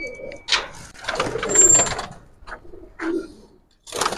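Giribaz pigeons in a cage give intermittent soft coos and short fluttering bursts at close range, separated by brief quiet gaps.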